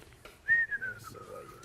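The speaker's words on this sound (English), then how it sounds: "You can whistle." One person whistles a brief, sliding, unhurried note over quiet room background, with faint talk nearby.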